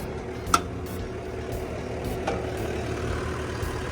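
A Komatsu WA150-5 wheel loader's four-cylinder turbo diesel, a Komatsu 4D102, idles with a steady low rumble. A sharp click sounds early on and fainter ticks follow through the run.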